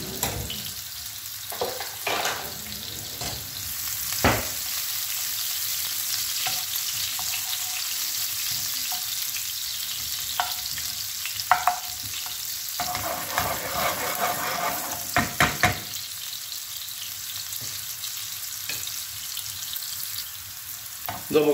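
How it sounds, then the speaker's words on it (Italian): Onion, garlic and chili pepper sauté in a pan for fusilli alla Calabrese, giving a steady, close sizzle with occasional scraping stirs and clicks from the utensil, and no voices. "Dopo che abbiamo fatto soffriggere un po' la nostra cipolla, l'aglio e il peperoncino"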